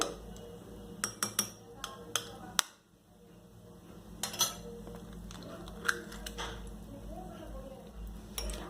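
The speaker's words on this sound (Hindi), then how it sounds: "अब हम इस पे अंडे फोड़ के डालेंगे।" Eggs being cracked into a bowl for egg paratha. Several sharp clicks and taps of shell on the rim come close together, with a quiet pause midway, over a steady low kitchen hum.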